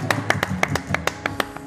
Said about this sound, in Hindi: बहुत तालियां होनी चाहिए यहाँ का।